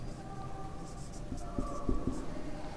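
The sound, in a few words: writing an answer during a maths lesson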